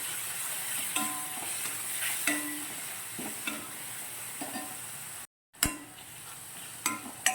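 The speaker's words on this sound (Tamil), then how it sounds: "மல்லித்தூள், தனி மிளகாய்த்தூள் எல்லாத்தையும் இது கூட சேர்த்து நல்லா மிக்ஸ் பண்ணுங்க" Coriander and chili powder are stirred into a vegetable kurma, and a spoon scrapes and clinks through the sizzling pan in a steady rhythm. The sound drops out briefly near the end, then returns with a few louder knocks.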